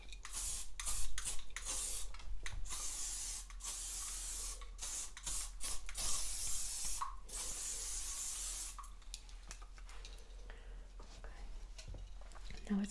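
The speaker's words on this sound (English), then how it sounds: "I do need to just pop some more hairspray on" Hairspray misted onto styled hair in a salon setting, a series of short hissing spray bursts spread across the stretch, some close and crisp, with quieter handling and rustling between them.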